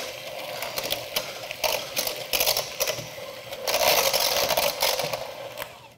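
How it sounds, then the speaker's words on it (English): A hand mixer beating potatoes at medium speed, a loud continuous motor whir with rhythmic rattling as the beaters churn, swelling toward the end. "And now I'm gonna go in with my hand mixer."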